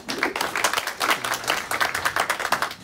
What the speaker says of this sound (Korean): 마지막 강연인 만큼 큰 박수 부탁드립니다